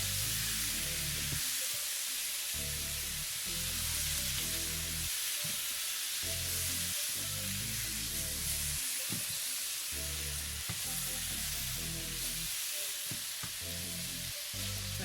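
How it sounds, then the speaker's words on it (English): Marinara sauce hits a hot pan and sizzles loudly, a dense, continuous crackling hiss that holds steady throughout, with faint stirring thumps underneath. "Marinara sauce going in."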